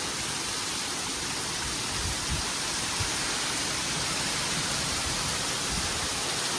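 Heavy rain pours down over farm fields as a dense, unbroken roar of broadband hiss, loud and steady throughout with no voices.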